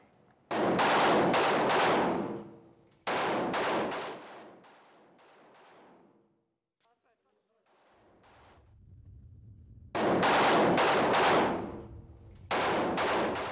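Bursts of Kalashnikov rifle gunfire crackle in rapid automatic strings, several loud volleys separated by pauses and a near-silent gap.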